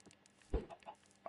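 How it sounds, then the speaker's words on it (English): Chickens clucking in the Minecraft video game: a short burst of squawking clucks near the middle, over quiet background with faint in-game noise around it. "Making so much noise for one chicken."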